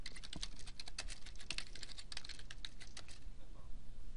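Typing on a computer keyboard into a Word document. Fast, even keystrokes clatter without a break at close range for several seconds.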